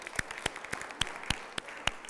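Sparse clapping at a motivational event, about eight distinct sharp claps spaced roughly a quarter second apart, close and moderately loud, like a few people or a single person applauding rather than a full crowd.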